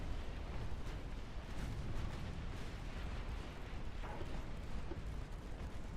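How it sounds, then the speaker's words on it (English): A torpedo detonates in the naval warfare game Ultimate Admiral Dreadnoughts: a sustained, heavy rumbling roar that holds steady and dense throughout, with no distinct separate blasts standing out. "Torpedo detonated."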